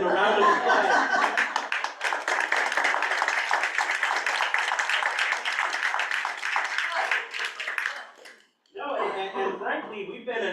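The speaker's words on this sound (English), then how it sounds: "I just wanna say thank you and a round of applause." An audience claps at a school board meeting, producing a dense, sustained round of applause with voices and light laughter mixed in. It breaks off briefly near the end, then resumes.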